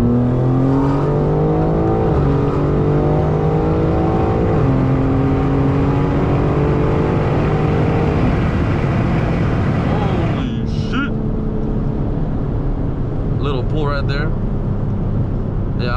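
A 2024 BMW M3 G80 Competition xDrive accelerating hard from inside the cabin, engine note climbing steadily through the gears with loud harmonic revving, then an upshift and renewed pull, continuous and close.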